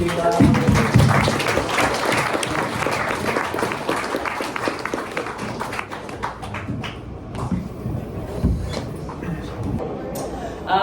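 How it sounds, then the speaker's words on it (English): An audience at a company holiday party applauds in a room, with steady clapping that fades toward the end while voices murmur underneath. "Let's give a round of applause to."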